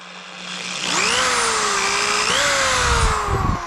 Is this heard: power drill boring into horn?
yes